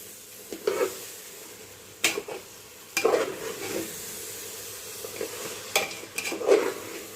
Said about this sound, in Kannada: ಆ ಮಸಾಲೆನ ಚೆನ್ನಾಗಿ ಮಿಕ್ಸ್ ಮಾಡ್ಕೊಂಡ್ಬಿಡೋಣ